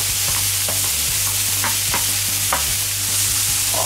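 Lamb fillet and onions sizzle on a blazing-hot fire griddle plate: a steady, loud frying hiss runs throughout, with a few sharper crackles and pops breaking through and no voices.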